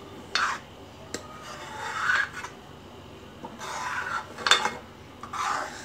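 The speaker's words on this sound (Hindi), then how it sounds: "जैसी उबाली आती रहेगी, आपको इसे स्टर करते रहना है।" A spoon stirring boiling Punjabi kadhi in a pot, repeated scraping and rasping strokes against the metal at an uneven pace, close and moderately loud, with a faint bubbling background.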